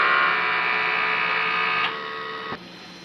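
An inkjet printer works through a print head cleaning cycle, giving a steady mechanical whir and hum close by, then a click and a quieter running tone near the end, with no voices.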